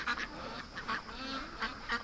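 Domestic ducks and geese in a pen honking and quacking in short repeated bursts, several calls overlapping at moderate distance over a quiet background.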